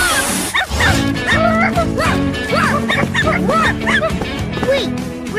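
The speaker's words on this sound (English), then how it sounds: "Red Marshall, and he's a dog." Electronic toy dog barking from a Paw Patrol On-A-Roll Marshall fire truck toy: a string of bright, repeated yips and bow-wows over cheerful background music, with a person talking throughout.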